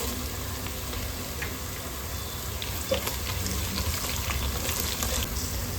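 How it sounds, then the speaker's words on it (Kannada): Curry leaves fry in hot oil with a steady, close crackling sizzle and a few faint clinks, with no voices. "ಕರಿಬೇವು ಸೊಪ್ಪನ್ನು ಸೇರಿಸ್ಕೊಳ್ತಾ ಇದ್ದೀನಿ"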